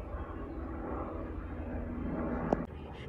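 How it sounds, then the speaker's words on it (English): An aircraft, a helicopter passing overhead above quiet countryside, a steady broadband drone that holds at one level throughout with no distinct blade thump, and a brief sharp knock near the end. "Helicopters, desecrators of my rural idyll."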